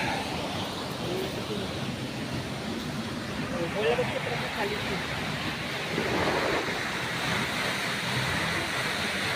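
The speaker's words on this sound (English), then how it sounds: "Water filtering from the top," Water trickles and splashes down from above near a waterfall in a muddy spot, a soft continuous wash of falling water with faint wind behind it, fairly quiet and steady throughout.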